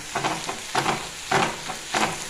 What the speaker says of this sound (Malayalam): കറിവേപ്പില ഇട്ട് കൊടുക്കട്ടെ